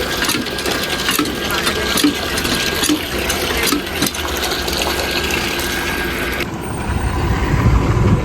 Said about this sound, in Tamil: தண்ணி கீழே ஊற்றுங்கப்பா